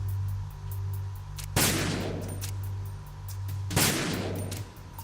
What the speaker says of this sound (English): Do I shoot the sensors themselves?